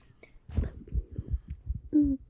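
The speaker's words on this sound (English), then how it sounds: "You hear the heartbeat" A heartbeat sound effect, a run of low, soft, rhythmic thumps pulsing steadily at moderate loudness, with a brief hum near the end.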